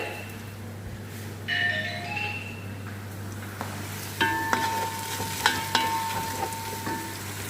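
Onion fries with spices for chicken kabsa, a low steady sizzle under a constant hum, with occasional sharp utensil clinks and stirring scrapes near the end.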